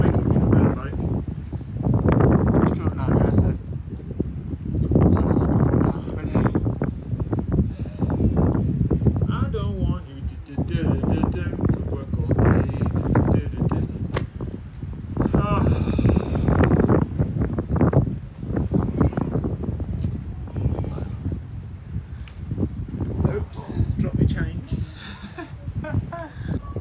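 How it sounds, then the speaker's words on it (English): Cold wind gusting at the coast, roaring and buffeting the microphone in strong, continuous blasts with rustling, while people talk over it throughout. "Can you hear the wind?"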